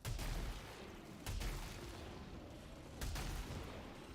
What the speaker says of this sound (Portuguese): Esse tiro não é um tiro que persegue?